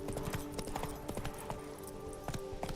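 Geralt's horse Roach gallops in The Witcher 3, hooves clip-clopping in a steady, fairly close rhythm over a low in-game ambience.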